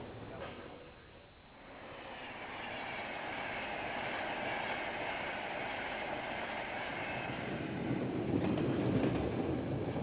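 The Yorkshire Pullman intercity service between London and Leeds runs along the rails, a continuous rushing rumble of wheels and passing coaches that holds steady and swells slightly toward the end.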